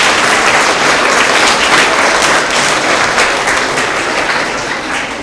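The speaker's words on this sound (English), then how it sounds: "Let's go ahead and give them a big round of applause as well." A large audience at a spring school award assembly for grades three to five applauds the Education Foundation, producing a loud, continuous wash of clapping that holds steady and eases slightly near the end.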